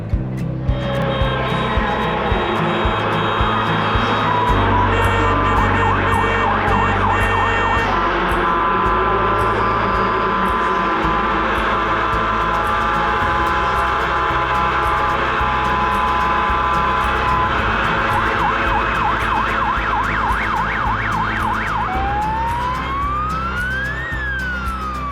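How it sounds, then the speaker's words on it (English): Restored vehicle at an indoor classic car restoration show sounds a loud, continuous siren-like horn that keeps wailing and sweeping in pitch for the whole stretch, heard over a noisy hall. "With new LED lights, they shine brightly, and the horn sounds good too."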